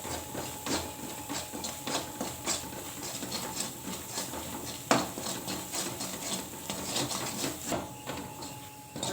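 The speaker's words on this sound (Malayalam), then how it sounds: "മഞ്ഞൾപ്പൊടി, അതെല്ലാം ഇട്ട് മസാലയുടെ പച്ചമണം വരെ പോകുന്നത് ഒന്നുകൂടി ഒന്ന് വഴറ്റിയെടുക്കണം" Kashmiri chili, coriander and turmeric powder masala sautéing in a kadai for mushroom masala, a steady close sizzle with repeated scraping and stirring clatter of a spoon against the pan throughout.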